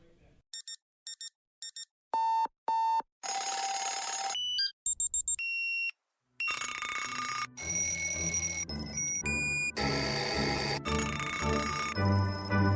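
Alarm clock ringing in a radio ad: sharp electronic beeps in quick bursts, then longer loud ringing blasts broken by brief gaps, close and dominant throughout.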